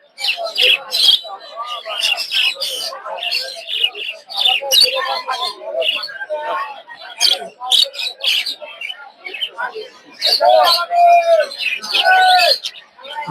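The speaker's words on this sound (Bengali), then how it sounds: "এক জোড়া ঘুঘু দেখতে পাচ্ছি অস্ট্রেলিয়ান ঘুঘু" Australian doves at a village bird market calling among other caged birds, with repeated close chirps, squawks and soft coos in uneven bursts and people talking nearby.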